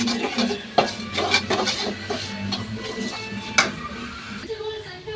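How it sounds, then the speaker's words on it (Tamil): Tomatoes with rock salt sautéing in a pan for egg curry, stirred with a utensil that gives repeated scraping clinks over a soft sizzle, close and fairly loud. "இதுக்கு தக்காளியே கொஞ்சம் நல்லா வதங்க விடுவோம்"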